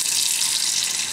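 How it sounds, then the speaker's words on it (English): Water running into an Instant Pot stainless inner pot being washed with soap, a steady close hiss of flowing water with no pauses and no voices. "So you just kind of put some soap and water in there"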